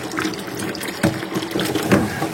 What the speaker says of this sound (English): what I'm going to do is fill this bucket up partway